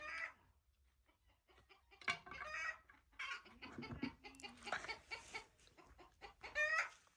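A chicken clucks repeatedly in short, uneven bursts, fairly close, with quieter clucks and rustling between them and no talking.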